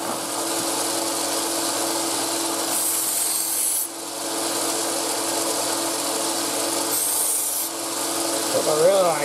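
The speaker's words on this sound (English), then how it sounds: "What I really like to do is grind it out and kind of buff it up" A knife blade is ground and buffed to a shine in a workshop, giving a continuous close rasping, rubbing hum with brief shifts in pressure and a short change in pitch near the end.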